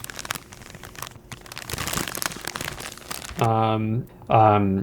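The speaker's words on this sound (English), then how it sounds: "So this is like the plastic reuse bag." Crinkling and rustling of a plastic reusable bag, close and busy for a few seconds, followed by a person speaking briefly.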